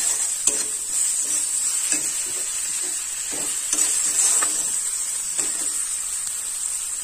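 Spice masala with salt and turmeric sizzles in a pan while a spoon scrapes and stirs it in irregular close strokes over a constant frying hiss.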